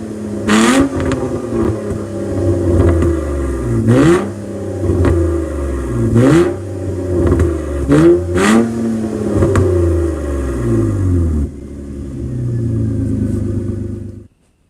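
Nissan Altima SE-R engine with a straight-pipe exhaust running from the pre-cat, parked in a barn, revs hard in a series of loud, close blips and rising pulls over a rough rumbling idle, then settles back to a steady idle.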